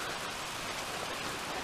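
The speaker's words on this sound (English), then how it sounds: "Oh, fuck, it's raining." Rain falling outdoors beside a 1979 Toyota SR5 pickup with camper, a steady broadband hiss with no distinct drops, evenly sustained and moderately quiet with no speech.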